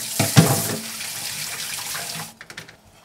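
Tap water pours into a cooking pot before boiling for blanching potatoes, a steady rushing stream close by that stops abruptly near the end, leaving a few faint drips and clinks.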